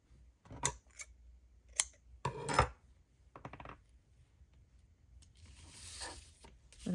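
Paper being trimmed with scissors for a junk journal cover, several distinct crisp snips spaced apart, close and fairly quiet, then a longer rustle of paper toward the end.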